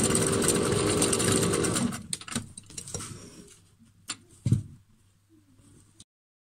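A domestic sewing machine runs steadily for about two seconds, stitching back and forth across the handle of a fabric pouch, then stops, leaving a few close handling clicks and rattles at a moderate level.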